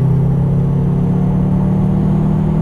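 A Subaru car accelerates on a track, its engine a loud, steady, close rumble with a strong sustained tone as power is fed in, heard alone without talking.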